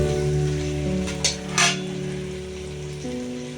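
Chicken for dum biryani being stirred into its marinade, soft wet squelching and stirring with a couple of brief clinks, close and alone over a steady low kitchen hum.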